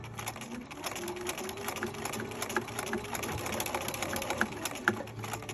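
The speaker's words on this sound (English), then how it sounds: "Now I'm going to backstitch." A sewing machine backstitches along the wing of a fabric owl, its needle running in a steady, rapid mechanical rhythm up close for several seconds.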